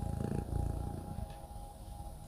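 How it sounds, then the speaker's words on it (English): A close, rhythmic low purr from a cat, continuous rumbling pulses over a couple of seconds. "Purring session."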